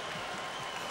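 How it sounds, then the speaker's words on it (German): Studio audience at a 1964 East German television music show applauding after a band sings a song, a steady dense wash of clapping throughout, fairly faint and distant. "Und dann wurde geklatscht."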